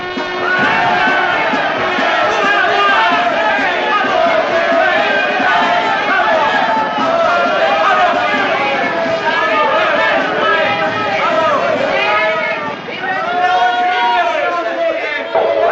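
A large crowd at a village election rally in the 1967 series The Prisoner roars and cheers noisily without pause, a dense babble of shouts and voices that stays loud throughout.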